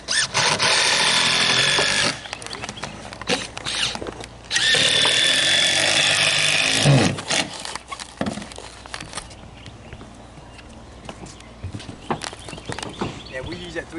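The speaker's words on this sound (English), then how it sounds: "Put a screw down there, show it." A power drill drives a screw into plywood on a mobile home roof repair, with two loud sustained whirring bursts of about two seconds each, followed by clattering handling noise and a voice in the background.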